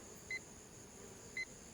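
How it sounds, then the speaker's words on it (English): Small kitchen-style timer being switched on, two short, clear electronic beeps about a second apart, close by and fairly faint over steady hiss. "Let's turn that on, and I'm going to set it for"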